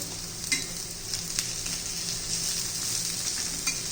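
Chopped onion frying in a pan for a bread omelette, giving a steady close sizzle and hiss with a few light stirring scrapes over it and no talk.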